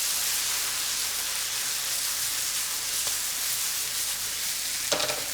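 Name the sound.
pasta primavera vegetables being tossed and frying in a pan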